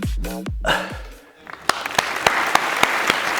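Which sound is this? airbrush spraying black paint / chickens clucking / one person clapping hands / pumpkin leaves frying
one person clapping hands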